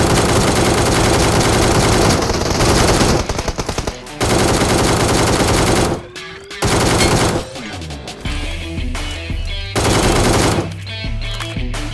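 Loud, sustained bursts of automatic fire from the Beam Blast ACE32 rifle in PUBG Mobile, broken by short pauses, with a dense stuttering rattle dominating throughout.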